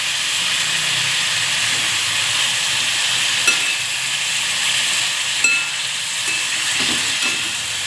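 Tomato and onion frying in oil give a steady, close hiss and sizzle that runs unbroken throughout, with a few faint clinks as the pan is stirred.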